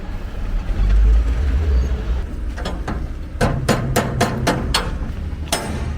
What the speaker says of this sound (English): And I think that thing's gonna be picked up by this giant forklift by the side.